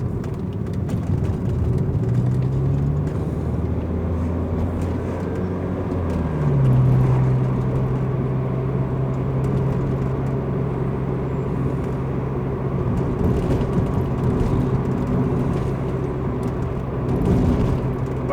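Constant road rumble and engine drone from a SAAB 9000 Turbo cruising on a freeway on new tires, heard steadily from inside the car with a brief pitch shift partway, no talk.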